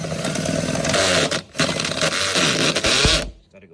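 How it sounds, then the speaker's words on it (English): A drill bit spins against old glue on a ZR1 body kit part, a loud continuous high-pitched grinding and scraping that briefly dips mid-way before stopping abruptly. "Come up with the idea of using this drill bit. If you put it on an angle, you start it. Get all this glue out."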